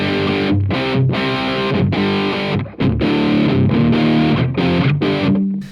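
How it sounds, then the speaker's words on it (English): Guitar amplifier with gain pushed to a full drive tone, likely voiced with higher mids than a Fender, playing sustained distorted chords and riffs loudly and continuously, with brief breaks between strums and no talking. "We're looking for nice, clean, full drive sounds."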